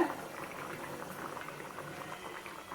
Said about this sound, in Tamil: இதை மூடி வச்சிடலாம் நல்லா கொதித்து நல்லா காளான் வேகட்டும்